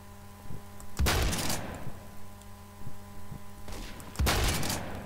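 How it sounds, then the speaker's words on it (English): Two sharp gunshot bursts in Roblox Phantom Forces, a few seconds apart over a low steady hum, loud and close. "Stop shooting at me, it's annoying."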